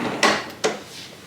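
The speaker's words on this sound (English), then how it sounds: "This glides closed, so if anybody is obviously, in the bathroom, you can close this door right here." A sliding bathroom door in a room at Disney's All Star Sports Resort glides shut, giving two close, distinct knocks a moment apart, with no talking.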